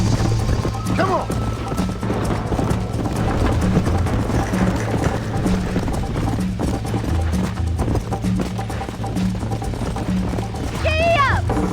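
Horse galloping in the Red Dead Redemption game, rhythmic hoofbeats running steadily throughout under a rider's spoken lines, with brief whinny-like calls near the start and end.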